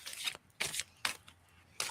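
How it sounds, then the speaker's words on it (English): Tarot cards being shuffled by hand, heard as four short, soft riffling bursts with brief gaps between them, faint and close. "I'll shuffle and get my energy in."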